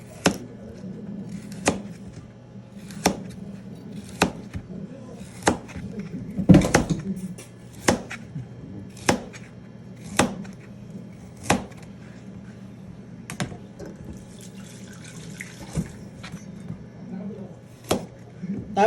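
A knife chopping carrots on a cutting board for chicken curry, sharp evenly spaced thuds about once every second, close by, with a person talking throughout.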